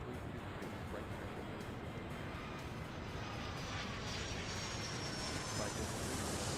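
Jet aircraft roaring down the runway on takeoff in the Airport Madness 3 airport management game, a steady broadband engine rush that builds slightly louder toward the end.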